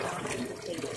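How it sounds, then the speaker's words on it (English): Well water flushing out through household plumbing lines, a dense, steady rush of running water that fills the whole moment at close range, with a voice speaking faintly underneath. "Right now I'm just flushing out the water."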